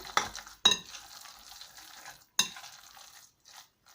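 Mackerel pâté spread with mayonnaise sauce is stirred in a bowl: a few sharp scraping strokes of a utensil, then softer wet mixing sounds and small clicks, close and fairly quiet, with no talking.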